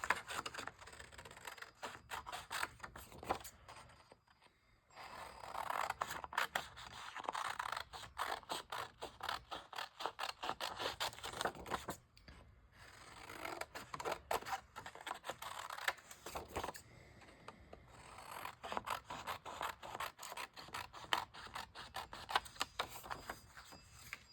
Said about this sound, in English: And then we'll trim out this Superman.